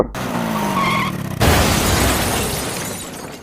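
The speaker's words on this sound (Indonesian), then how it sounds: "dia sudah menabrak mobil yang sedang terparkir" A motorbike skids and crashes into a parked car in a scene from the film Crows Zero, with tire screech followed by a loud impact and shattering clatter that trails off.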